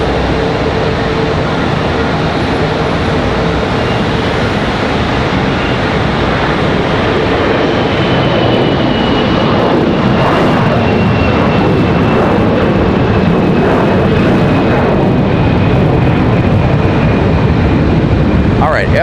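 An American Airlines jet departs Charlotte Douglas for Chicago, its engines a loud, sustained roar with a faint high whine, while someone talks over the noise.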